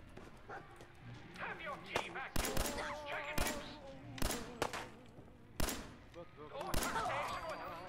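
Scattered sharp gunshots in Fallout 4, about six loud cracks at irregular intervals among background game sounds and creature noises, with a voice talking in between.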